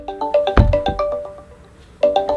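A Google Duo video call rings on an Android phone as a bright electronic melody of chiming tones, one phrase followed by a short pause and then the start of the next, close and clear.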